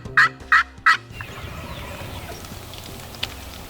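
A wild turkey gobbles three quick times on an evening in the rain, loud against a steady hiss of falling raindrops that carries on alone afterward.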